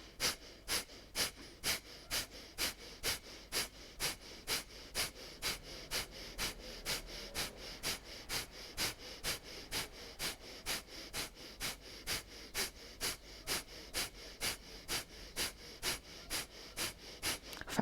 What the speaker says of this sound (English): Exhale from the mouth, and then start breath of fire.